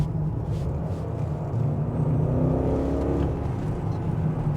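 A BMW X5 4.8is with a 4.8-litre V8 accelerating in manual mode, a deep steady engine rumble from inside the cabin that swells and rises briefly as it pulls, without anyone talking.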